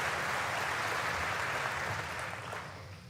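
Muted applause from the audience at the 2019 State of the Union address, a dense, steady wash of clapping that carries on throughout and fades slightly near the end.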